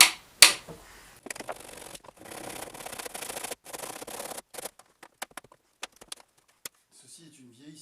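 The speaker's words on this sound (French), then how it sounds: "Ceci est une vieille scie" An old hand saw cuts wooden trim in an artist's workshop, with rasping strokes that come in uneven bursts, then thin into scattered taps. Someone speaks briefly at the start.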